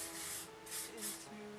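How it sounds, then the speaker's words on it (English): Several short hisses of hairspray from an aerosol can, close up, in quick succession. "take some hairspray and just spray these so that they don't move much"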